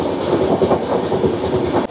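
A Humsafar Express, an all-AC three-tier train, rumbles steadily along the rails with a continuous clatter of wheels and car body, loud and close from inside the coach, with no talk.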